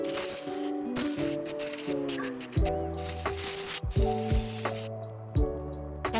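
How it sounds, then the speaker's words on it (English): Compressed air sprays in long hissing bursts over a Traxxas Titan 12T 550 brushed motor, close and loud, with brief pauses between blasts and layered over steady background music. "Then clean the motor with compressed air."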